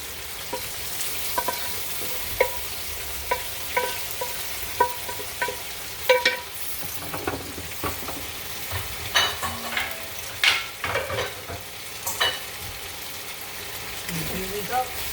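Shrimp and vegetables cooked with shoyu, ginger and sugar sizzle and fry in a pan, with the soft scrape and clatter of stirring coming in frequent irregular bursts; a person talks at times.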